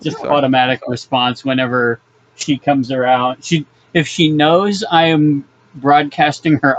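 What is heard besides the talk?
No distinct noise like a dog, phone or traffic.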